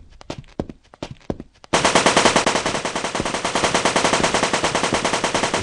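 A machine-gun turret in a Unity first-person shooter opens fire: a few scattered shots, then a dense, rapid, continuous burst of automatic gunfire that stays loud and steady for several seconds.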